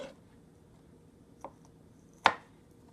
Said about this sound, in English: Chopping this up.